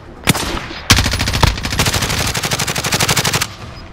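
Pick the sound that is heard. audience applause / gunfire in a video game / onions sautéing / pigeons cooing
gunfire in a video game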